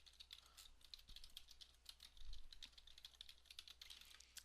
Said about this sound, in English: I should look at the keyboard when I'm typing.